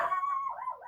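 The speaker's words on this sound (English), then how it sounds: "Today it's my dog, which doing the audio stuff I can usually edit out" A dog gives a single close, wavering howl that bends upward into a short yip, heard alone and fairly loud.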